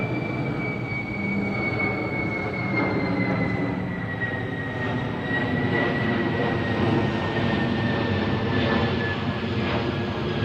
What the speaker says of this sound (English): We'll wait on that plane to get over.